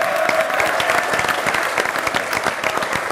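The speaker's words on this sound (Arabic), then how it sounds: "أعطونا تصفيق على المدير" Applause breaks out for a young DJ nicknamed the director at a televised variety show in a party hall, a dense, steady burst of many clapping hands from a crowd, loud and close throughout.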